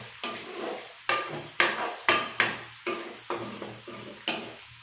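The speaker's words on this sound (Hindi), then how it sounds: "हम लोग अच्छा से मिक्स करेंगे इसको और पूरा लो फ्लेम पे इसको पकाएंगे हम लोग" A spoon stirs chicken biryani masala with two chillies over a low flame, making about nine rhythmic scraping strokes against the pan at close range, each followed by a soft sizzle, with no talking.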